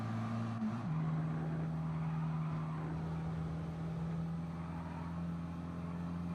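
A race car engine in the Gran Turismo Sport video game, lapping the Nürburgring Nordschleife at full throttle: a steady, droning high-revving tone that shifts pitch once early on, then holds constant and loud throughout.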